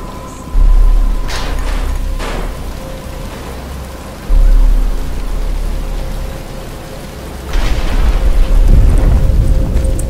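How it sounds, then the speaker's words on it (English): Rain pours steadily through a thunderstorm scene in a Batman Arkham video game cutscene, with heavy low rumbles swelling in at intervals beneath the constant hiss of falling water; no voices. "But it's starting to rain."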